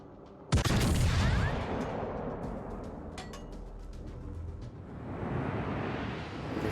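A naval gun salvo fires in World of Warships Legends from an American battleship, a sharp loud boom at the start that rolls into a long rumbling decay, with scattered faint clicks and a rising wash of ambient noise toward the end.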